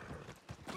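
Horse hooves clip-clopping in the game Red Dead Redemption 2, a short burst of a few soft hoof beats, faint and close with no talk.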